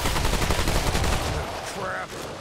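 Gunfire from a gun in the video game Remnant 2: a rapid, loud burst of repeated shots rattling close up, then a quieter tail with a brief whine.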